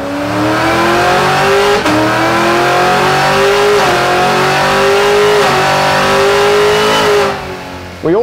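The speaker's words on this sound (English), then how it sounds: "the ability to tune the transmission by running the car up through the gears at full load" A car runs flat out on a chassis dyno in a tuning workshop, the engine note rising steadily through each gear with brief dips at the shifts, loud and close throughout before dropping off near the end.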